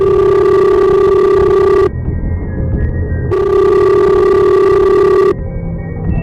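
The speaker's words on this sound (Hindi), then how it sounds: "तभी उसकी माँ का फोन आया।" A telephone rings in two long electronic bursts separated by a short pause, loud and close, with no voices over it; it is an incoming call from a mother in a Hindi horror story.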